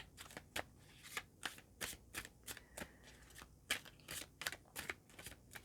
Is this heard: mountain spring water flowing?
no